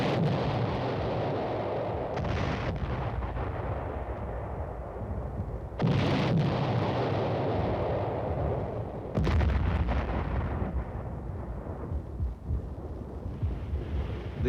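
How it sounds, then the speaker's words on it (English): Artillery pieces pound away in a concentrated bombardment on an abandoned town, heavy rumbling blasts rolling continuously, with sharper booms near 6 and 9 seconds rising above the din; no voices. "Regular artillery pieces are now brought into play for this concentrated bombardment."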